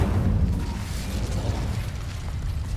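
Incendio fire spell cast in Hogwarts Legacy, a steady roaring burst of flame that whooshes and crackles loudly for a few seconds, with no talk over it.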